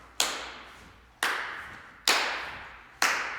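Four single hand claps from a Shim Sham tap dance routine land about a second apart. Each is crisp and close, with a short room decay and nothing else underneath.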